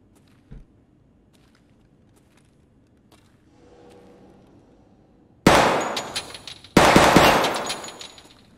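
Two loud, sharp bursts of gunfire ring out in the video game Escape from Tarkov, each a close crack with a short decaying tail, preceded by faint clicks and quiet handling noises.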